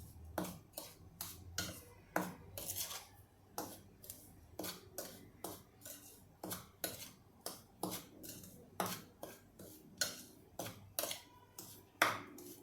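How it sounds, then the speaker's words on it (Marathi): A spoon clinks against a bowl while mixing homemade panipuri masala powder with sugar, a regular series of sharp metallic taps and scrapes roughly every half second, close and fairly quiet, with no speech. "आता हे जे आहे हे आपण छान मिक्स करून घेणार आहोत."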